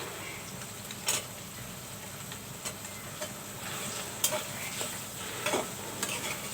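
Beef tripe cooking in a pot as tomatoes go in, a soft steady sizzle broken by a few sharp stirring clinks, fairly quiet and close.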